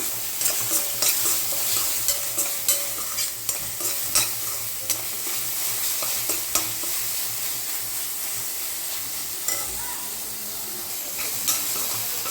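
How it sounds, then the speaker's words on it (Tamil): Ginger garlic paste is stirred into onions frying in oil for an egg gravy, with a steady sizzle and repeated scraping stirs close by and no voices. "இந்த டைமில் நம்ம கொஞ்சம் இஞ்சி பூண்டு பேஸ்ட் போட்டுக்கலாம் நல்லா மிக்ஸ் பண்ணி விட்டுக்கலாம்"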